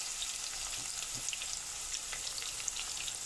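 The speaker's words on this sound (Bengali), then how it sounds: "পেঁয়াজটা একটু ভেজে নেব।" Onions frying in hot oil with powdered garam masala, giving a steady close sizzle with small crackles and pops throughout and no talking.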